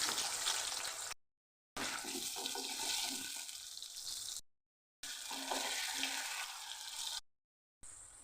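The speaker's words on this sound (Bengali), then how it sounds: "নুন হলুদ মাখানো আলুটা ভেজে নেবো আগে" Potato pieces coated in salt and turmeric fry in hot oil with a loud, dense, continuous sizzle, heard in three long bursts separated by short silent breaks, with no voices.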